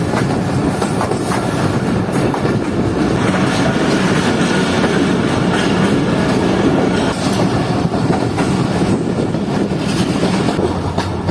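Sukkur Express passenger train running overnight from Jacobabad toward Karachi, a loud continuous rumble of wheels on track with a steady clickety-clack rhythm, heard from inside the moving carriage without talk.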